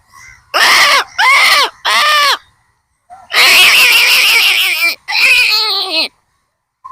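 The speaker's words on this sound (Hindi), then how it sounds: "पूरा कौवा काँव काँव काँव काँव करके इस बगीचा में आ चुके हैं" Crows flocking into a garden, answering a man's call, give three short harsh caws followed by two longer ragged cawing bursts, loud and close with brief gaps between them.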